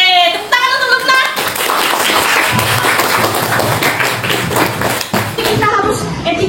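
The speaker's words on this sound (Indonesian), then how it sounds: "Oke, tepuk tangan untuk Lutna" Children in an elementary classroom applaud a classmate together, a dense burst of hand claps and taps lasting several seconds, close and loud, with a teacher's voice speaking before and after.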